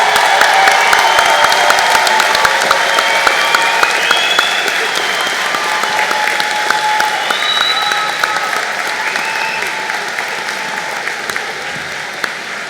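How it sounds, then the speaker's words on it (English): A large audience at a State University of New York commencement ceremony gives sustained applause for graduates, dense continuous clapping filling a big hall and fading only slightly over about thirteen seconds. "A round of applause for these graduates,"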